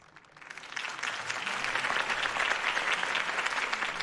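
Sustained applause from a crowd in the Batman Telltale video game, swelling in after a quiet start and holding steady as dense, continuous clapping.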